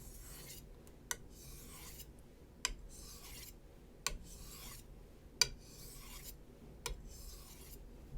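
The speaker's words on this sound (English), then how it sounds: "So now I'll go just a few strokes, and I'm just gonna pull that burr off." Japanese boning knife drawn across a whetstone in a few light strokes to take off the burr, each pass a soft raspy scrape with small ticks between, quiet and close with no talking.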